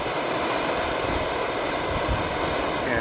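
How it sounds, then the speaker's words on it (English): A propane torch roars in a steady, loud, broadband hiss while heating a metal scraper, constant from start to finish with no pauses. "You get a propane torch and heat up any type of metal scraper."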